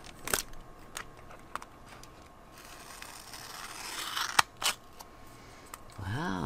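Scissors cut through parchment paper made into faux leather, with a few sharp snips and a longer rasping slice, close and fairly quiet.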